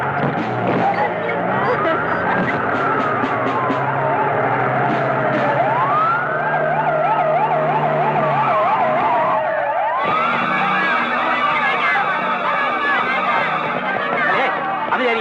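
A police vehicle siren wails and then yelps in rapid rising and falling sweeps, loud and continuous, changing to a different tone partway through, with other street noise around it.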